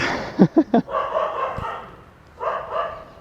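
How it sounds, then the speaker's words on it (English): Dogs barking outdoors near a wedding venue in India, three quick sharp barks followed by longer drawn-out yelps and a further howl-like call, moderately close. "There are the dogs barking."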